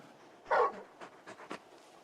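Torgal, the giant wolf-dog companion from the game Final Fantasy XVI, lets out a close whimpering whine followed by a few soft, short panting breaths, with no talking.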